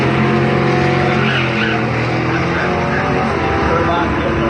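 Drag race cars, including a Pontiac facing a 1978 Sunbird, launch down the strip with a loud, sustained engine roar and screeching tires. An announcer calls the race over the noise.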